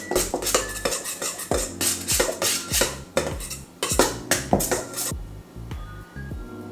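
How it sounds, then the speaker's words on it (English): Scone dough being mixed with a pinch of salt in a bowl: a steady run of clinking, scraping strokes of a utensil against the bowl, close and fairly loud, ending in quieter stirring. "Then some salt, just a small bit. Then mix it a little bit."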